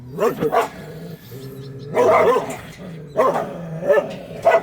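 A black-and-tan female Korean Jindo dog barks in several loud, close bursts, with short pauses between the barks and no talking.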